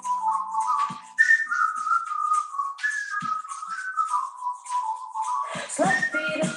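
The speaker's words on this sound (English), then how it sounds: "Now go on, whistle with me." An exercise class whistles along together, a wavering melodic line of several overlapping whistlers with soft foot shuffles and a brief burst of mixed voices near the end.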